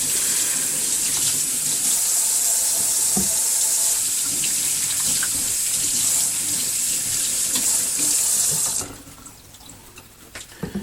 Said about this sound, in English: I'm going to rinse the fillets off.